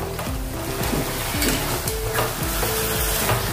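Potatoes for an aloo baingan sabzi fry in a pan with a steady loud sizzle, broken by repeated scraping strokes as they are stirred, close up and with no talking.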